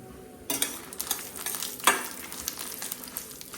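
Cumin seeds are dropped into a hot pan and burst into a sudden, crackling sizzle that continues with light pops and a metallic clink or two, close and alone without talk.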